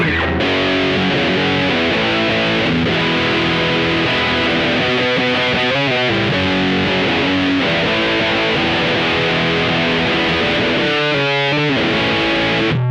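Guitar through a Boss OD200 playing a muff distortion with the mid boost engaged, a thick, fuzzy, saturated wall of sound with chugging riffs and brief stops, loud and continuous without talking.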